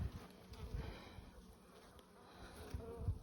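Honey bees buzzing at a hive during an August swarm, a dense continuous hum of many insects close by with no talk.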